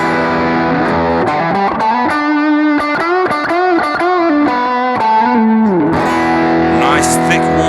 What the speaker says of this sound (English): Nice thick warm distortion.